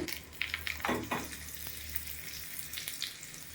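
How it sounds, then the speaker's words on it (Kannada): Cumin, urad dal, chana dal, curry leaves and dry red chili crackle and spit in hot oil for a tempering, with several sharp pops and scrapes over a steady close sizzle; nobody speaks. "ಈಗ ಅದಾಗಿದೆ ಒಗ್ಗರಣೆ."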